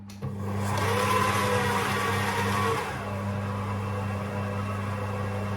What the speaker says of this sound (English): So we'll just whisk those up.